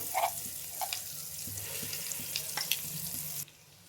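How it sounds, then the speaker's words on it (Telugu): Masala paste frying in oil in a pan for fish curry, giving a steady close sizzle with small pops and crackles that stops abruptly near the end. "ఈ మసాలా పేస్ట్ మొత్తం ఆయిల్లో ఫ్రై కావాలి."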